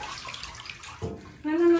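Water runs and splashes from a tap as a Maremma Sheepdog/Golden Retriever mix is showered, fairly close, rising louder toward the end with faint background voices.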